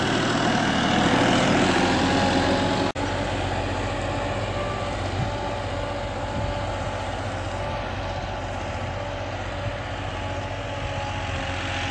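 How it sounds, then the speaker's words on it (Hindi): Massey Ferguson 9500 58hp tractor pulling a 16-disk harrow through a field, a steady, loud engine drone with constant low rumble throughout, one brief dip near the start. "बहुत सुथरा ट्रैक्टर चलन लग रहा है भाई"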